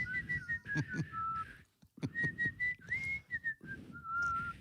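A person whistles a wavering melodic tune in short phrases, close to the mic, with soft background noises between notes.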